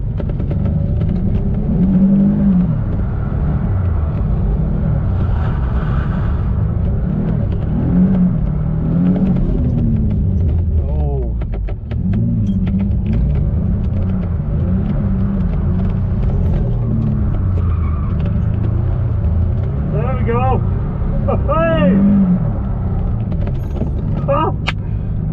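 Turbocharged Nissan 350Z drifting with a clutch kick, its engine droning loud and close with rising revs and tyre noise throughout, while a voice talks over it at times.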